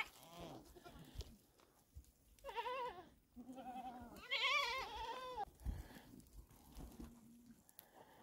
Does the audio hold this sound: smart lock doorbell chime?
no